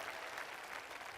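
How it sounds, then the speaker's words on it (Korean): A talk-concert audience applauds middle and high school teenagers, a steady, even wash of many hands clapping that sounds faint and distant throughout the short stretch. "여러분 박수 한번 부탁드리겠습니다"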